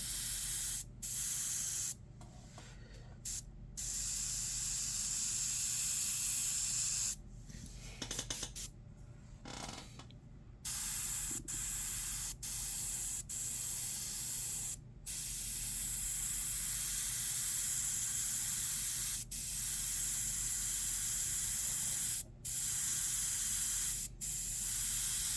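An airbrush hisses steadily while spraying paint onto a demon skull, a near continuous spray broken by short pauses and a few quick stops.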